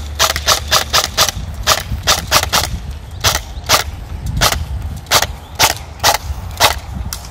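Beretta ARX 160 Elite airsoft rifle fired outdoors while the shooter walks, a long series of sharp close single shots and short pairs in an uneven rhythm over faint footstep and background noise.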